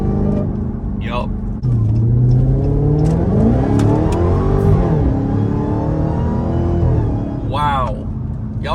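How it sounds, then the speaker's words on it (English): A Dodge Hellcat Charger Widebody with an open-air intake accelerates hard, its supercharger whine climbing in pitch over a loud rumbling engine, with a shift and a second rising pull, heard from inside the car. "you can hear that whine better than a stock airbox."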